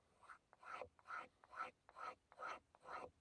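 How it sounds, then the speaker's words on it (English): A bare blade scrapes along the grain of a wooden pipe in six or seven even, rhythmic rasping strokes, close up and quiet, with no talking. "I use a bare blade to scrape along the grain."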